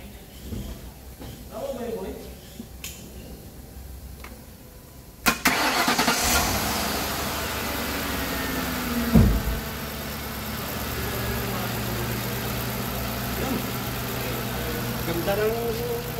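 A Ford Crown Victoria engine cranks and catches after fresh valve seals and valve cover work, then settles into a steady idle with a low hum, while someone talks over it.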